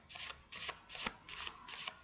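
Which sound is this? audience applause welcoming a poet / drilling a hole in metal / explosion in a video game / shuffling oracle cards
shuffling oracle cards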